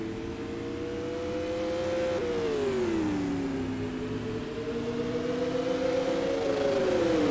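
Supermodified race cars roar around Oswego Speedway in a steady, loud engine drone whose pitch dips and climbs as the pack moves through the turns, with no voices over it.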